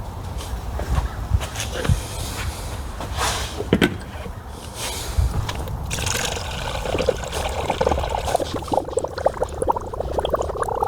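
Coolant trickles and splashes while being poured to top up a Tesla Model S with a leaky coolant valve, a steady liquid stream with small knocks and handling sounds throughout.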